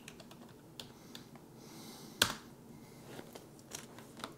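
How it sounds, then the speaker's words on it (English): Quiet, scattered keystrokes on a computer keyboard, typing a search into a PC at a LinuxCNC plasma CNC workstation, in short irregular bursts with no talking. "in the other one I want you to type in 7i76E manual"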